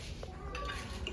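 Plates and cutlery clink and knock together during washing, a soft, close clatter over a low background rumble.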